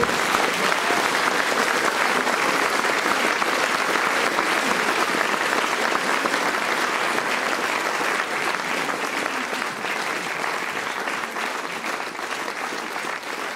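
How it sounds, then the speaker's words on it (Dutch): Sustained, dense applause from a concert hall audience at a CD launch, loud and continuous, easing slightly toward the end. "Mag ik een applaus voor de bouw van de zaal?"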